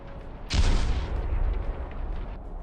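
A single loud explosion blasts burning scrap metal from under a bridge in a combat zone, with a sharp, heavy boom followed by a long rumbling roar that slowly fades.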